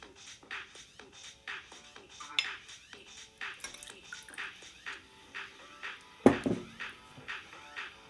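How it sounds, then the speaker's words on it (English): Ice cubes rattle and clink inside a metal martini shaker in a short, fairly quiet run of irregular knocks, with one sharper louder clank near the end. "Martini shaker with ice."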